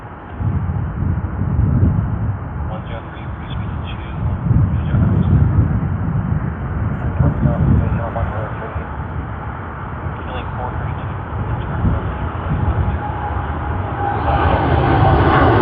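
United Boeing 787-9 Dreamliner jet on its takeoff roll at Sydney Airport, a steady loud engine roar heard from a distance and mixed with wind buffeting, while people talk over it.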